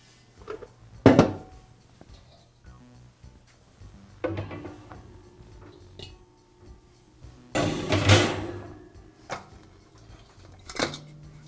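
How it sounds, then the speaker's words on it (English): A Weber kettle grill is taken apart as its lid, grill grates and ash pan are lifted off, with scattered metallic clanks and scrapes, a few sharp bangs and quieter rattles between them. "I'll begin by removing the lid, grill grates, and ash pan from the barbecue."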